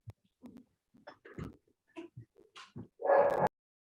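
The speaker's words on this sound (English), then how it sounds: "My dog is barking." A pet dog at home gives soft, scattered yips and whimpers that build into a louder bark near the end. It sounds fairly near but low overall, with quiet gaps between the calls.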